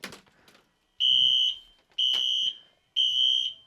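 An electronic alarm sounds three loud, piercing beeps, each about half a second long and spaced about a second apart, with faint background noise between them.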